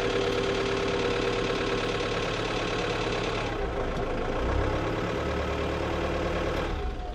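A Ford Transit van engine running after a jump start from a booster on a weak battery: a loud, steady mechanical drone held at raised revs that drops to a lower, rougher note partway through and then keeps running.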